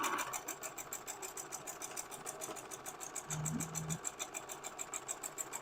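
Sewing machine stitching a quilt block for a hidden nine patch, running steadily with a fast, even mechanical whir and rhythmic needle clatter, close and continuous throughout, with a brief low tone partway through.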